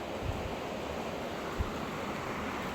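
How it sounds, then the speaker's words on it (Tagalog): Heavy rain pours outside during a typhoon, a dense, steady roaring wash with a couple of faint low thumps, heard from indoors without talk. "Kusog kayong uwan anak."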